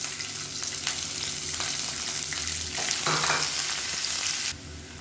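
Shallots and curry leaves frying in a pan give a continuous, close hiss and sizzle, broken by scraping stirs, with the sizzle briefly intensifying around the middle.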